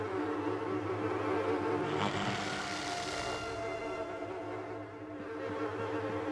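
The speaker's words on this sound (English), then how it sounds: "I hear bees or flies." Steady insect-like buzzing, as of bees or flies, in the Little Nightmares 2 video game, a continuous droning hum lasting throughout at moderate level with no talking.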